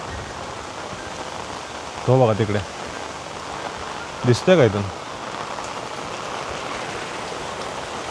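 Steady broadband rush of a waterfall flowing near a village, constant throughout, with two short bursts of people talking over it.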